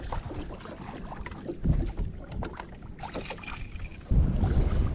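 Wind buffeting a small boat out fishing on open water: steady close gusty rumble over the microphone with a few louder surges, no talking.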